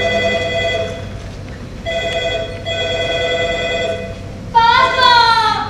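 A telephone rings in a stage play, its bell-like electronic tone repeating in steady bursts across the clip before a brighter, rising ringtone cuts in near the end, with background hum underneath.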